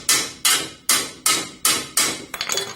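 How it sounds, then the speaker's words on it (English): A hammer knocks a VE Commodore rear strut through its mounting during removal, with six sharp, evenly spaced metallic blows, close and loud, followed by a quick cluster of lighter taps. "you might need a hammer for this"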